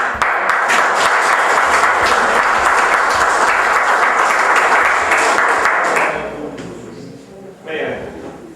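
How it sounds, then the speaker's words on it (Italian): An audience at an evening poetry festival in a cloister claps loudly and continuously for about six seconds, then the applause fades away and a few scattered claps remain. "ancora un applauso per tutti quanti"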